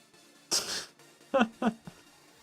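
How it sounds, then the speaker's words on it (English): A single sneeze bursts out sharply and fairly close during a livestreamed Fallout 76 play session, followed by a few short breathy sniffs or catches of breath. "Also sneeze, apparently, because I think that's the thing that's going to occur in a minute."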